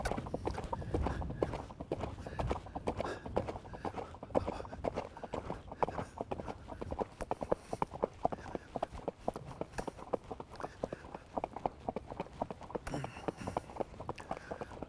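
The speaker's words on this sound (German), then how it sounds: "So, gute, saubere, runde Galoppade." A horse canters steadily in a clean, round gait, its hoofbeats forming a continuous rhythmic clatter with a loud, dense texture from start to finish.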